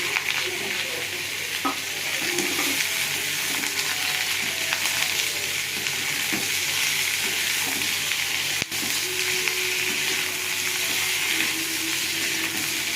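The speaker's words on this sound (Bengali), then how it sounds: "ভাজা ভাজা হয়ে গেলে সবজিগুলো দিয়ে দেবো, ভাজা করে নেবো।" Vegetables with dry red chilli and whole five-spice tempering sizzle steadily in hot oil in a pan, with scattered scrapes and clinks of stirring throughout; no talking.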